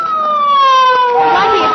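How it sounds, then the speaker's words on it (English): A police car siren used as a radio drama sound effect wails loud and close in a falling, harmonic-rich tone, breaking into rougher noise as it fades at the end. "Blackie, it's Faraday in that police car."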